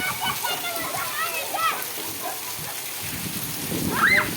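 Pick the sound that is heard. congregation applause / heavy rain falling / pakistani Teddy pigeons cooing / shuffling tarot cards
heavy rain falling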